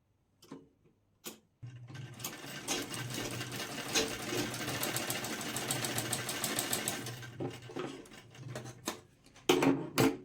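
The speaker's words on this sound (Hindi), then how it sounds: "मैं इसको इस तरह से ज्वाइंट कर लूंगी एक स्टिच लगा के" A sewing machine stitches blouse neck fabric pieces together in a steady, close whirring run of rapid needle strokes lasting several seconds, framed by a few short knocks and handling sounds before and after.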